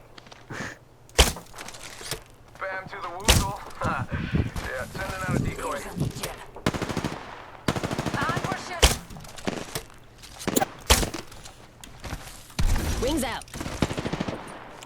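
Bursts of rapid gunfire and sharp single shots crack repeatedly throughout in the video game Apex Legends, interspersed with excited talking voices.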